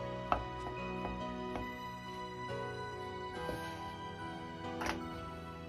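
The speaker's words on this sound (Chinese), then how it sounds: "再改刀切成菱形片，这个不用切得太薄，稍微偏厚一点" A knife slicing king oyster mushrooms into thick diamond pieces on a cutting board, several sharp, evenly spaced chops with quiet pauses between them.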